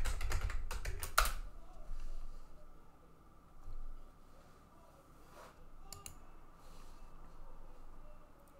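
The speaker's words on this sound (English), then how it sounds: "Enter the password here." Rapid keystrokes on a computer keyboard while a password is entered at a Windows 10 remote desktop login, a dense burst of close, crisp clicks at the start, then a quiet room hum with a few faint later taps.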